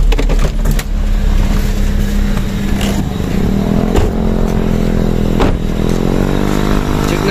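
A 2001 Toyota Altis 1.8G engine runs after an oil change and oil pan strainer cleaning, a loud, steady idle with a constant low hum and faint mechanical clatter, and no talk.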